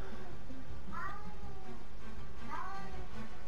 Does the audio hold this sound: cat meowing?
yes